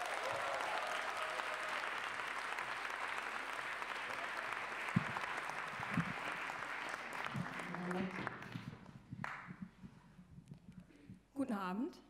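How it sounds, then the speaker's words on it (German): Dense, steady applause from a comedy show audience welcoming comedian Jessica Plass, sustained for about eight seconds before thinning out, with a voice speaking near the end. "Applaus bitte für Jessica Plass."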